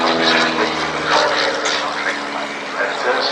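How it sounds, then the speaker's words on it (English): De Havilland Chipmunk propeller aircraft performing an aerobatic display at an RAF Cosford air show, a steady droning engine note, fairly loud, with an announcer talking over it. "As John continues his aerobatic display in the Chipmunk"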